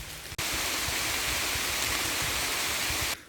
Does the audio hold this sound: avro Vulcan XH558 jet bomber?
no